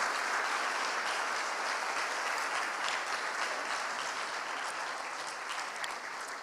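A church congregation at a Spanish-language Sunday service applauds in a dense, continuous wash of clapping that holds steady and fairly distant throughout, with no voices standing out.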